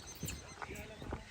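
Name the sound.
horse at a stud farm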